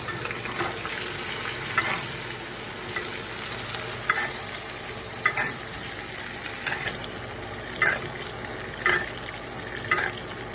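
A steak sizzles in a pan with butter, rosemary and garlic, a steady close hiss broken by brief scraping bursts as the fat is spooned over.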